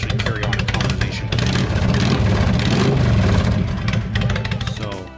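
Motorcycle engine with exhaust baffles installed, running loud and steady close by with a deep throbbing exhaust note that swells slightly midway before easing off at the end.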